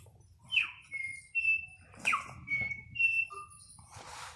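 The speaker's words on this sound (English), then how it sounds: "That is the first bird that calls in the sun in our land. It's called the korimako." A New Zealand bellbird (korimako) calls outdoors in a series of clear, bell-like chirps and whistled notes, a few separate phrases spaced over several seconds against a quiet low background.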